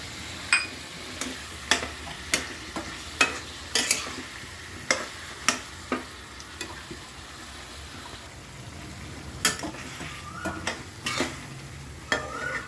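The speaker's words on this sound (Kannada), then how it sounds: "ಇದನ್ನು ಚೆನ್ನಾಗಿ ಬಾಡಿಸ್ಕೊಳ್ಳಿ." Capsicum, vangibath powder, curry leaves and peas are stir-fried in a pan, with a soft continuous sizzle broken by a series of sharp scraping stirs of the spoon at an uneven rhythm, close and clear with no talking.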